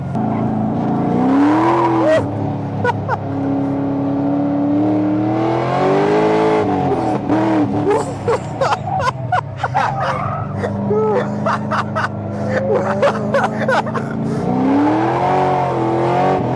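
A 700-plus horsepower Corvette accelerates hard on a racetrack, its engine note rising and falling through repeated pulls, loud and close from inside the car, with occasional excited voices over it.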